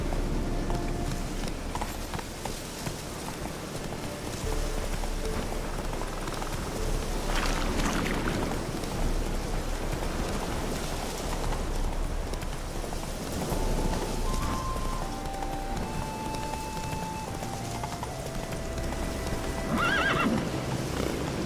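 In The Witcher 3, the horse Roach gallops with continuous hoofbeats and lets out whinnies, while rain patters steadily in the background.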